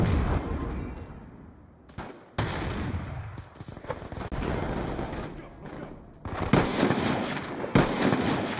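Gunfire in the video game Black Ops 2, with bursts of rapid shots and sharp single cracks separated by brief gaps, loud and close, with a voice speaking faintly beneath.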